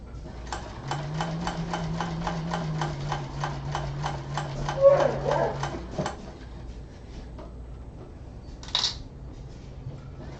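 A sewing machine stitches in a steady rapid rattle for about five seconds, then stops, followed by quieter handling noises and a brief clack near the end.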